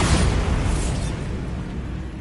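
Bombardus spell explosion in Hogwarts Legacy, a loud bright blast that fades into a heavy low rumble over about two seconds.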